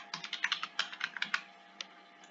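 Fingers type a password on a computer keyboard, giving a quick run of close, crisp keystrokes followed by a couple of isolated taps and a short pause.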